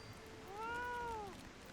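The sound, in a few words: cat meowing, Fat Cat minion in video game Final Fantasy XIV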